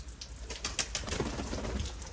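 A small-bodied female Sialkoti pigeon coos in low murmurs close by, with a faint patter like rain in the background.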